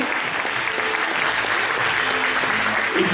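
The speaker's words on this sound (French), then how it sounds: "on va encore une fois pouvoir applaudir bien fort Cindy et Didier" A crowd in a magic show audience claps loudly and continuously, a thick even wash of applause that swells slightly at the end.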